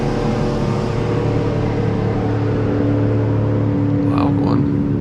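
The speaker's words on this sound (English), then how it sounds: "Got a little boat going by here." Loud motorboat passing on the water, a steady droning engine hum with a whining tone held throughout, close and continuous, with a faint voice briefly near the end.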